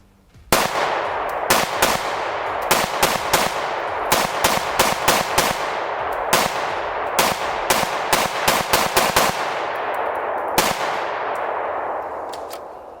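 A rifle firing Monarch steel-cased ammunition in a rapid, uneven string of sharp, loud reports with ringing tails, close to the shooter, followed by a fading echo and no talk.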